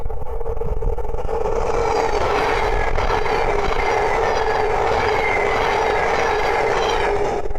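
A Thameslink Class 700 electric multiple unit rolls past on the East Coast Main Line at Great Wymondley, a loud, steady roar of wheels and motors holding at close range throughout with no voices.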